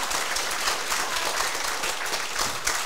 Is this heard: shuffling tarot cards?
no